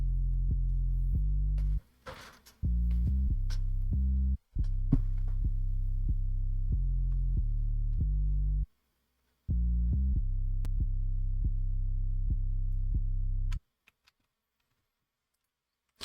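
A boosted plug-style 808 bass in a hip hop beat plays deep, booming sustained notes in a repeating pattern, with short gaps and light ticking percussion on top, loud and close, ending in near silence.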